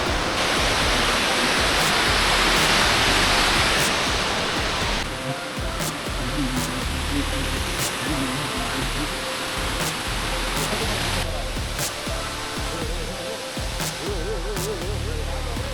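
Tarabu waterfall in Andhra Pradesh roars as a loud, steady rush of falling water, close and continuous throughout with no break.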